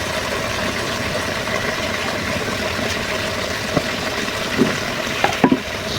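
Hilsa fish going into a sizzling taro curry, heard as a dense, steady frying hiss close by, with a few soft clunks and scrapes near the end.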